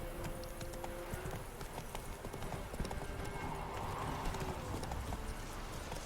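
A horse in The Witcher 3 video game clip-clops along a village road, with steady rhythmic hoofbeats and a faint whinny, fairly quiet under the game's ambient sound.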